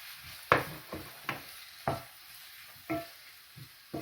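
Chopped onion and green pepper frying in olive oil in a pan, a low steady sizzle broken by about six scraping stirs of a utensil at uneven intervals, close up, with no one talking.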